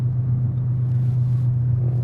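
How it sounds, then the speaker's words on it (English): A car engine running just below 2,000 RPM produces a steady low droning rumble, a constant even tone heard close with no speech over it. "I'm not working the engine very hard."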